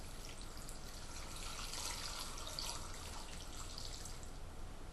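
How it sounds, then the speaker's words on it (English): Steady stream of water being poured into a pot of lentil stew, a continuous close splashing wash with no talk. "all I'm going to do at this point is pour in about 3 cups of water"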